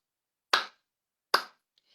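Two sharp, separate hand claps in a quiet room, about 0.8 seconds apart, each with a brief airy decay and no talking.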